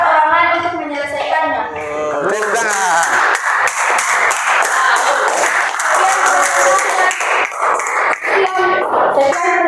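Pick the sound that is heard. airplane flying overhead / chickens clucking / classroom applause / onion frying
classroom applause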